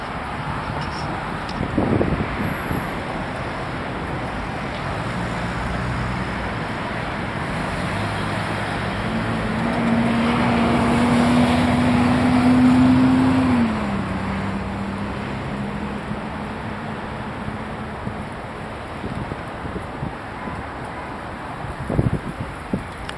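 Road traffic at Dealey Plaza in Dallas, Texas, a steady roadway roar with a passing vehicle swelling louder midway, plus wind buffeting the microphone.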